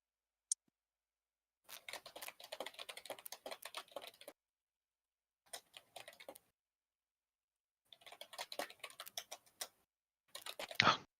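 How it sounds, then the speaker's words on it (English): Computer keyboard keys clicking and clacking in quick bursts of typing separated by pauses of silence, heard close and fairly faint. "can hear the little click clacking of his keyboard"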